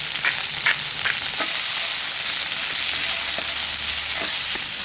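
Asparagus sizzles and crackles loudly and steadily in a hot cast iron skillet of Thanksgiving hash over a camp cooking fire, with a few soft clacks of stirring and no talking.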